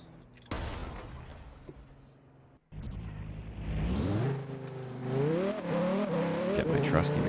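McLaren car driven in the Roblox ERLC game, engine revving and accelerating with rising pitch and a whirring drone, fairly close, building steadily after a brief gap, with talk over it.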